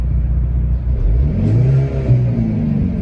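A 2020 Hyundai Veloster N revs hard, its engine and exhaust note rising and falling in a loud, close, throaty drone with strong low rumble throughout.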